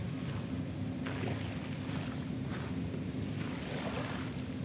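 Gentle waves at Dolomite Beach with a steady low wash of water and some wind rumble against the microphone, continuous and moderately quiet with no talking.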